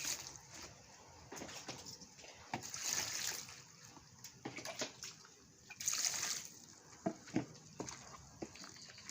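Vegetables for a fermented sour dish are rinsed in clean water by hand, with faint, intermittent splashes, sloshes and trickles close by.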